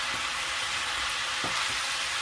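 Cabbage stir-frying in a hot pan for bihon noodles, a steady loud sizzle with a couple of soft stirring scrapes, no voices.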